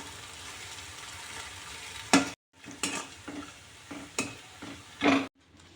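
Soaked puffed rice is stir-fried in a pan with a soft continuous sizzle and several loud spatula scrapes and knocks that come in bursts. The sound cuts briefly between strokes.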